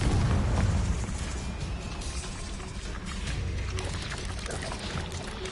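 A Confringo blasting curse exploding in Hogwarts Legacy, a heavy boom at the start that settles into a dense, rushing, crackling rumble lasting several seconds, with no voices.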